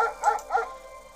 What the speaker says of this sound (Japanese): あのワンちゃんは噛みつきそうよ